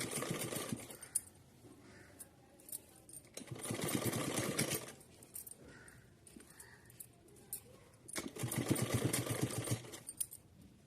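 A sewing machine stitching a cotton outfit runs in three distinct bursts, each a few seconds long, with a steady rapid mechanical whirr between quieter pauses.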